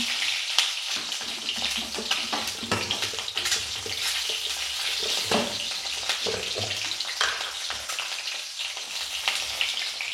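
Duck eggs frying in a pan with turmeric and salt, giving a steady, dense, close sizzle with bubbling spatter throughout, moderately loud, with no voices.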